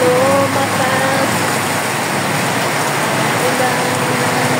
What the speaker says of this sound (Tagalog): Wow, lumakas pang ulan. Bumuhos na ang ulan.